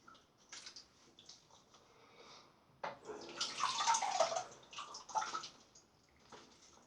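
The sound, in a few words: water rinsing off after shaving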